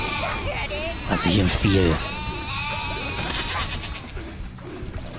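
Sheep bleat in the video game Overlord Raising Hell, a couple of loud wavering bleats near the start, with someone talking throughout.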